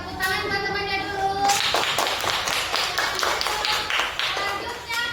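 Classmates in a school classroom clap for a student after a short spoken line, a burst of close, uneven hand claps filling most of the stretch.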